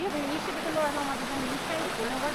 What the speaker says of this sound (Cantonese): 銀河瀑布